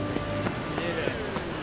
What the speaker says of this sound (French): Encore de la pluie. C'est vraiment joli.